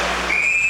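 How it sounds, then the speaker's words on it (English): A referee's whistle at an ice hockey game, a short, sharp, bright blast that rises out of the arena murmur and holds briefly. "So we get a whistle at neutral ice."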